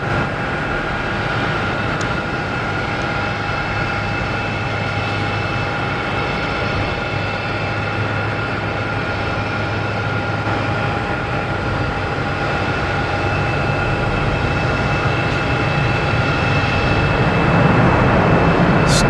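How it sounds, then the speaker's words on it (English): A Lufthansa Airbus A340-300 arriving from Frankfurt gives a steady, loud broadband engine roar with a faint tonal whine, holding even for the whole stretch and swelling slightly near the end. "A340, 300, coming in from Frankfurt"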